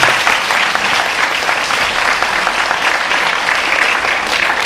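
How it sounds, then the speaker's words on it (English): Warm audience applause at a debating championship event, dense and steady throughout, with no talking over it. "So if everyone could give Mevesh a very warm round of applause."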